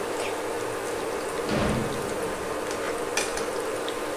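Drumstick flower fritters fry in a pan of hot oil with a steady, even sizzle and crackle throughout, briefly louder around the middle, with a faint clink or two.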